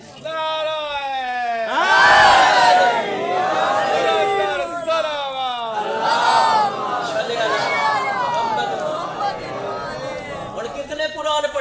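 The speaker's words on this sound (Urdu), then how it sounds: "تسی اٹھ اٹھ کے نعرے مارو" A mosque congregation at a Rabi ul Awwal gathering raising religious slogans together, loud massed voices rising in waves with a leader's call, close and reverberant, filling the whole stretch.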